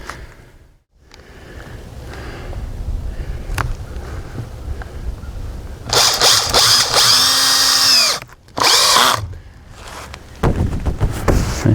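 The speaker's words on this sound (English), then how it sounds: "And then we're going to put a screw right there." A power drill whirs in loud, close bursts driving a screw through greenhouse plastic, rising in pitch as it spins up, with a short pause between runs.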